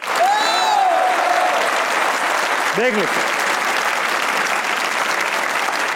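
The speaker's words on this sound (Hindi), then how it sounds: "तालियां बजाइए।" Studio audience at a Pakistani talk show clapping loudly and steadily throughout, with a host's voice briefly heard over the applause.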